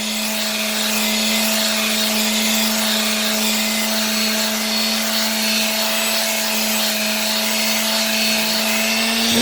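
A power sander grinds steadily over a rusty vintage rail plate during initial rust removal, a loud continuous motor whine with a sanding rasp, holding nearly even throughout.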